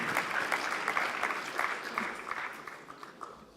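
Conference audience applauding at an event at Audencia business school, a dense steady wash of clapping hands that fades slightly toward the end, with no talking over it.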